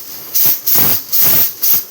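Green chilies and a piece of red chili dropped into about two spoons of hot oil in a nonstick pan, giving loud, close hissing sizzle bursts that swell and fade in a repeating rhythm.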